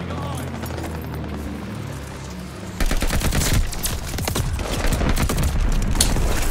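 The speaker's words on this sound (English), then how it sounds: "Friendly bombing run on the way" Bombing run in a shooter video game: a low rumble gives way to a loud barrage of rapid gunfire and booming explosions that continues to the end.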